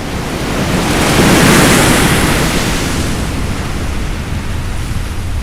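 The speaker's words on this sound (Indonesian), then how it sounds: "banyu tu nerjang tentera Mesir" Sea waves crash and surge over the Egyptian army as a story sound effect: a dense, roaring wash of surf that swells near the start and then rolls on steadily with no voices.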